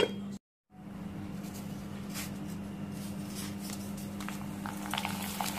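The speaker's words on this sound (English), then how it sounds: "Fry a little papad or vadam." Papad or vadam frying in hot oil in a home kitchen, a continuous soft sizzle with scattered crackles and pops over a low steady hum, after a brief moment of silence.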